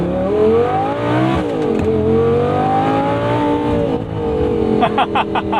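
A 2011 Audi R8 V10 Spyder with a six-speed gated manual revs loud and close, double-clutching into first and pulling hard, its engine note climbing, dipping and climbing again through sustained acceleration.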